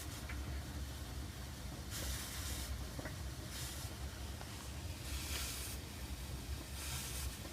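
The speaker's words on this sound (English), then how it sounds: "And then it starts steaming right." A Kenmore dryer in steam refresh mode, leaking water, gives off quiet repeated bursts of steam hiss in a regular pulsing rhythm over a faint low mechanical drone.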